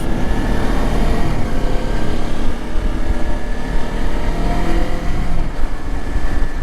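A stock Kawasaki Versys 300 motorcycle ridden off-road, its engine giving a loud, steady, continuous drone throughout with no voices over it.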